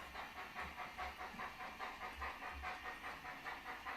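A model train locomotive with working sound effects coasts to a stop, giving off a steady steam hiss over faint rhythmic clicking of the wheels, close and moderately quiet.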